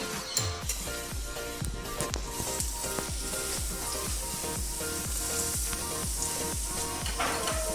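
Half a large onion frying in very hot coconut oil, a bright continuous sizzle with a quick run of repeated scraping or stirring strokes against the pan, close up, with no talking.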